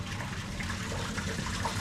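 Water is poured steadily into an arowana aquarium tank, a continuous close rushing splash with no break and no talking.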